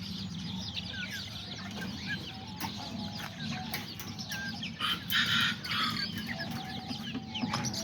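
Kikiriki hens and roosters cluck and chatter nearby in a small flock, with a bulico rooster among them, short repeated calls and squawks over a low background hum and no talk.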